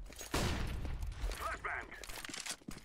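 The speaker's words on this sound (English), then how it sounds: "Throwing flashbang." A flashbang grenade bursts with a sharp, loud crack early on, followed by a rumbling tail, with voices talking in the background.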